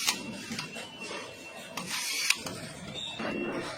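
Screws being driven to fasten a fuse box inside a car dashboard on a factory assembly line, heard as several short, close ratcheting mechanical bursts over steady workshop noise.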